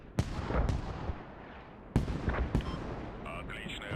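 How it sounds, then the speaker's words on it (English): Mortar rounds land in the video game Squad, several sharp booming impacts with rumbling tails, a couple of closely spaced blasts near the start and another pair later, fairly distant. "Mortars now hitting Kalinovka"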